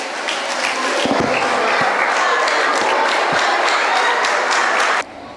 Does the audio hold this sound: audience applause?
yes